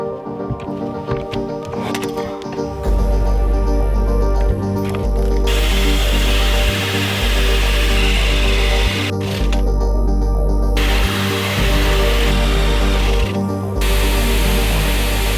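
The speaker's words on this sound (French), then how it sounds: "Donc c'est une scie cloche de 67 ou 68" A 67 or 68 mm hole saw on a drill cuts through the metal body of a Ducato L3H2 van, a steady loud grinding drone with a low rumble, briefly interrupted five times in a regular rhythm.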